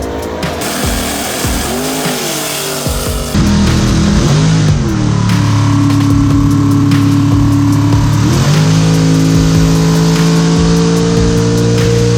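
NHRA drag racing car doing a burnout in the burn box at Brainerd, a loud sustained engine roar with tire squeal that jumps louder partway through and holds a steady high rev to the end, close by.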